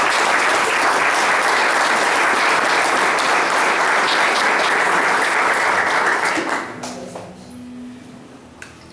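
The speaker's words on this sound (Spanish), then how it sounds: "El aplauso es para este lindo pueblo" Dense, loud applause from a crowd at a book presentation in a small town, sustained for several seconds before tapering off into quieter room noise.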